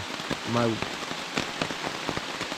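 Rain patters steadily on a tent on the Appalachian Trail, a soft, even hiss of drops with a few sharper taps, faint and close, with no talking.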